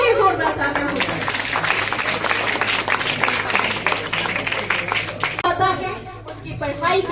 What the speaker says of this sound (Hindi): पालमपुर के इन युवाओं के लिए जोरदार तालियां हो जाए।